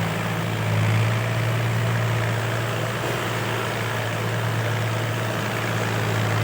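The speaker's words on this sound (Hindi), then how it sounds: "ये हवाई जहाज उड़ता हुआ" A propeller airplane drones steadily overhead, a loud continuous low hum that holds evenly throughout, with no talk.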